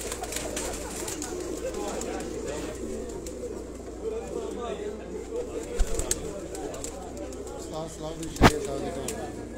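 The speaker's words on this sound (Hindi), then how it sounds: "जी उस्ताद सलाउद्दीन शहरिया साहब होरां दे घर दा कबूतर है जी।" A Batera and Kasuri cross-breed pigeon from Sialkot coos softly and repeatedly in low rolling calls, with voices talking in the background and a couple of sharp knocks near the end.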